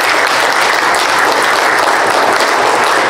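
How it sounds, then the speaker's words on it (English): An audience at a panel discussion applauds in a dense, steady burst of clapping that stays loud for the full few seconds. "let's have a round of applause for our speakers"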